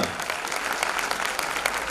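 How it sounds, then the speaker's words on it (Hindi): A crowd at a Jain children's culture camp bursts into loud, continuous applause, thick overlapping claps filling the short moment without a break. "जोरदार तालियां।"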